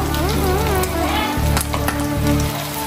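Fish sizzling and crackling in hot oil in a pan for a Telangana-style fish fry, a steady dense spatter close up with a low hum beneath and no talk.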